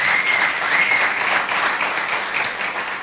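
Warm applause from a church congregation, many hands clapping together in a continuous, fairly loud burst that holds steady before easing slightly at the end.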